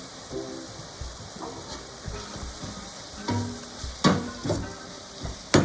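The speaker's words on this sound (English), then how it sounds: "we're putting the carrots right together with the onions." Carrots and onions sizzling in a pot over medium-low heat for a beef stew, a soft steady fry with scattered clinks and scrapes of stirring that grow sharper toward the end, close by with no talk.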